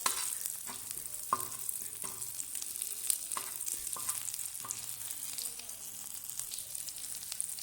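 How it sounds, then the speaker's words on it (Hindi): Aloo tikki patties sizzle steadily on a hot tawa, a continuous close frying hiss punctuated by occasional clicks and scrapes of a spatula, with no talking. "तो ये तकरीबन 5 से 7 मिनट लगेंगे इसको फ्राई करने को।"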